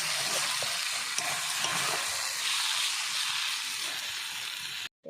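Shredded cabbage frying in a pan with a pre-roasted spice mix of cumin, dried red chilli and garam masala, a steady loud sizzle with stirring scrapes throughout, ending in a brief drop to silence just before the close.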